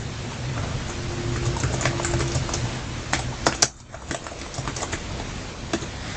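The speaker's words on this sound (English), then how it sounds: "You just have to type it in." Computer keyboard typing, a steady patter of light key taps running throughout over a soft background hum.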